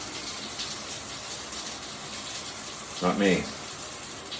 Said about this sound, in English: here's the toilet. Flush it, wiggle it.